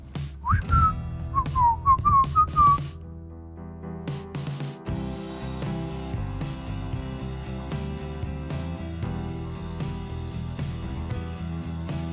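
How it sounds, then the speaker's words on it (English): Someone whistles a short, bouncy melody phrase by phrase, then instrumental music carries on alone. "Just purse your lips and whistle, that's the thing."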